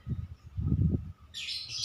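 Birds chirp in a high, bright burst toward the end of a short stretch, following low rumbling sounds, in a setting where nine birds are kept and handled together.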